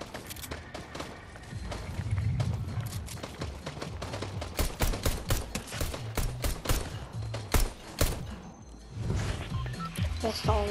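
Rapid pistol shots in the Fortnite video game, a dense volley of sharp cracks mixed with footsteps and game effects, loud and near throughout with a brief lull before more firing.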